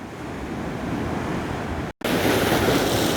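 Sea surf washes onto the beach below Covesea Cliffs near Lossiemouth in Moray, Scotland, a steady, loud broadband roar with wind buffeting the microphone and a brief dropout partway through, with no voices.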